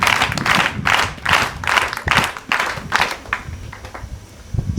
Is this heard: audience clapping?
yes